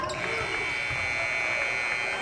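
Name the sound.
shot clock buzzer at high school basketball game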